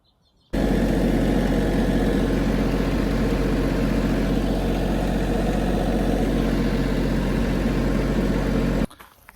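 A tractor engine idles close by with a loud, steady low rumble that starts abruptly, holds evenly for about eight seconds, then cuts off.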